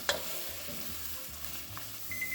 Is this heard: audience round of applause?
no